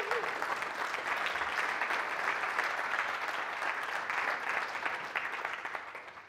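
A large conference audience at a talk on the Joomla project gives sustained, dense applause, an even roar of many hands clapping that holds steady and begins to fade near the end.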